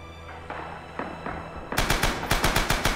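An emplacement machine gun in the World War II shooter Rising Storm opens up in a fast, loud burst of rapid shots after a few scattered distant gunshots.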